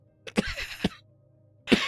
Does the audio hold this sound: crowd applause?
no